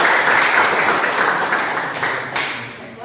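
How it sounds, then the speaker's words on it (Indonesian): A class of students claps, a brief burst of applause that fades over about three seconds, fairly close and dense. "berikan tepuk tangan dulu."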